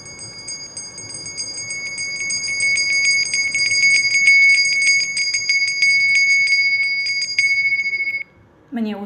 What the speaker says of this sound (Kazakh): қоңырау белгісі немесе жаңағы будильниктің звугы өзіңіз таңдап аласыз